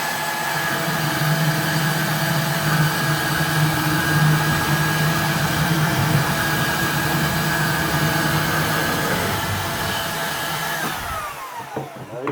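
A portable band saw cuts through steel rebar for a raised garden bed, giving a steady, loud, close mechanical whine that holds for about eleven seconds, then drops in pitch as the blade winds down.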